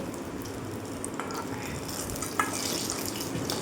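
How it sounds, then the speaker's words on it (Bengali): Pointed gourd (potol) frying in oil left over from eggplant: a soft, even sizzle and hiss continues throughout at a low level, with faint clinks and one small knock. "বেগুন তুলে নিয়ে ওই তেলেই আমি পটল ভেজে নেব"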